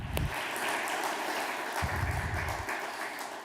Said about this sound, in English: I please you to have a big applause to Blaž Golob and his team that prepare all this year